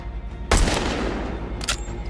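Video game gunfire: a sharp, loud shot cracks out near the start, with a second, shorter report about a second later over a steady low background rumble.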